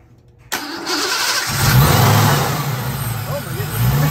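Car engine fitted with a newly installed Vortech supercharger cranks and catches on its first start, then settles into a loud, rough idle with a rising rev near the middle and a high steady whine above it, recorded close up.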